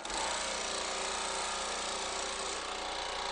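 A Baileigh PH-19 power hammer runs steadily after being switched on, giving a loud, continuous mechanical drone with fine rapid pulsing that holds the same level throughout, with no voices.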